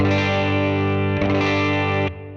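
Fender Mustang GT amp playing a sustained distorted guitar chord through a long, lush reverb with extra decay and dwell; the chord rings steadily, is restruck briefly midway, then drops into a fading reverb tail, with no talking.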